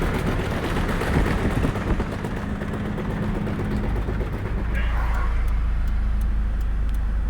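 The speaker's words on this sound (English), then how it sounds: "Larry just shredded his tires." A Scion FR-S drifting with its tires shredding, a loud continuous engine roar and tire noise that stays strong throughout, the low rumble getting heavier toward the end.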